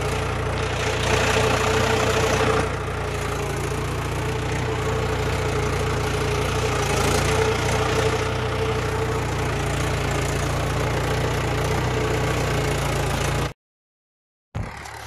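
A farm tractor engine runs steadily at a low, throbbing idle close by, its loud knocking rumble continuous for most of the stretch before cutting out briefly near the end and resuming.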